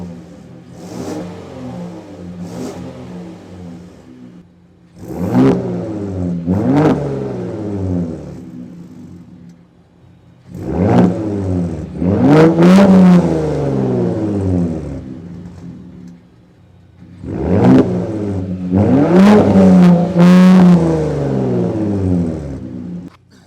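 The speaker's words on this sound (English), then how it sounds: "the glorious exotic sound that the V6 produces" A 2022 Ford Raptor Gen 3 with a V6 and aftermarket exhaust revs in three loud bursts, each rising sharply to a roaring peak and falling back to a burbling idle between them, with no talk over it.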